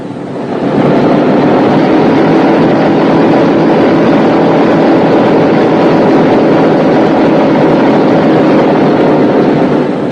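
Boeing B-17 Flying Fortress radial engines running, a loud, steady low roar with a thick mechanical drone that holds constant throughout, with no talk over it.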